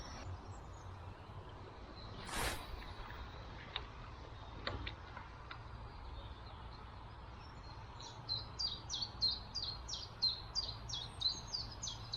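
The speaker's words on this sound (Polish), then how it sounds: "Ptaki śpiewają cały czas." Small birds sing by a river, faint chirps scattered at first, then a quick run of bright repeated notes near the end over a low steady background hush.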